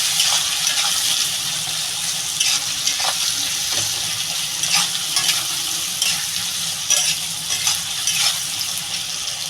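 Onions, green chillies and garlic fry in a pan for a Bengali rohu fish dish, a steady close hiss and crackle broken by several soft stirring scrapes, with no talking.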